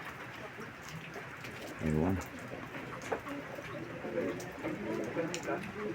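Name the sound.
Taiwan birds cooing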